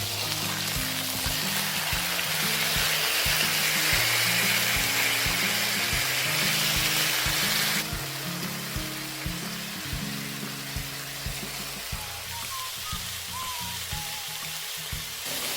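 Sliced shallots and garlic fry alongside a beef steak in a hot pan, giving a loud, continuous sizzle and crackle with rhythmic low thumps that ease slightly partway through.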